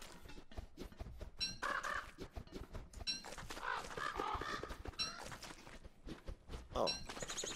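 A bird in Don't Starve Together clucks and chirps in short, busy calls, mixed with soft thuds and clicks of game activity, steady and fairly close throughout.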